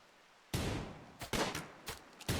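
Gunshots in Rimworld crack out in a loud, close burst of several sharp reports with short gaps between them, following a quiet lead-in.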